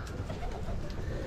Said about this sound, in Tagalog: Tapos ito yung aking mga alagang kalapati.